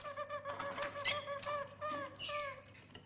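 A German Harz canary sings alone, clear, pure, flute-like whistled notes rising and falling in short phrases, fairly close and moderately soft.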